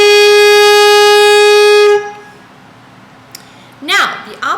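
A saxophone note played with a relaxed embouchure: a loud, steady, bright tone held for about two seconds and then cut off, followed by quiet room sound and a voice starting to speak.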